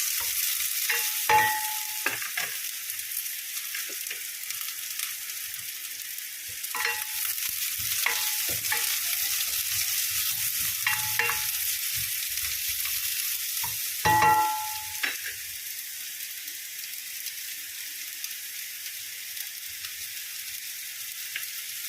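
A whole onion sautés in a pan for milkfish (bangus) with salted black beans, giving a steady broadband sizzle with occasional scraping stirs and clinks, alone and without talk.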